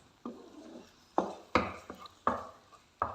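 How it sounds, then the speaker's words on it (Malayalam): An egg mixture being stirred together in a bowl, heard as a handful of faint, separate utensil knocks against the sides at an uneven pace, each followed by a brief scrape. "നമുക്കിത് നല്ല രീതിയിലൊന്ന് ഇളക്കി യോജിപ്പിക്കണം"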